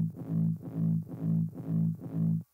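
Kick sample EQ'd with the lows removed to bring out its mid tone, played as five evenly spaced, sustained, buzzy hits with a quick fade after the last, loud and close, with no voices.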